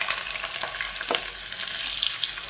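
Thinly sliced onion drops into hot coconut oil with fennel seeds for a Kerala egg curry, giving a dense, steady sizzle and crackle with a few stirring scrapes, close by and without talk.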